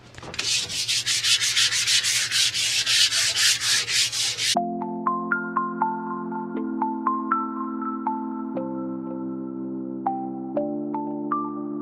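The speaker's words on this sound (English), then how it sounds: "This is a finishing sandpaper. This way once I sand it down and clean it, I'm left with a nice smooth finish." Finishing sandpaper rubs over a piece of furniture by hand in brisk, evenly spaced strokes, close and clear for a few seconds, then gives way to soft melodic music notes.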